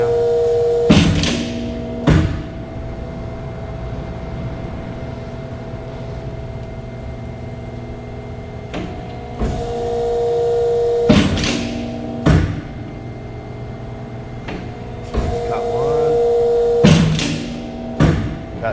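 Krras RAS 326 hydraulic shear, 10-foot by 1/4-inch capacity, cycling through a dry run: a steady machine hum broken by several loud clunks and knocks in irregular groups, with no one talking.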